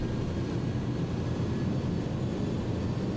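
Airbus A300-600R engines in X-Plane 12 run at takeoff power, making a steady, dense roar that stays loud and even from start to finish.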